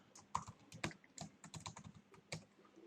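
Typing on a computer keyboard, a quick irregular run of soft close key clicks at low volume with no other sound.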